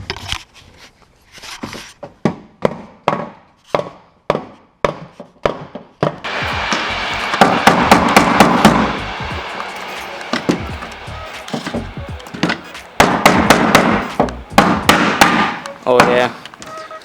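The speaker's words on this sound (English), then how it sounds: "Okay guys, so we got this wooden hammer. I'm just gonna knock it out." Sharp wooden hammer knocks strike a metal differential housing from the inside one after another, spaced at first, then quickening into dense rapid hammering with brief pauses, loud and close.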